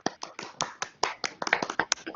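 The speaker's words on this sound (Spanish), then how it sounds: "Un aplauso para todos." A small group claps at the close of an online class presentation, a brisk, uneven patter of hand claps that is steady and fairly close.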